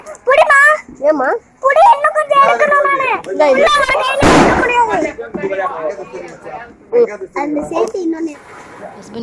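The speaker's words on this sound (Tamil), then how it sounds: "எவ்வளோ பட்டாசு" A single sharp firecracker bang bursts midway through Diwali celebrations at home, loud and close, while a woman and children keep talking around it.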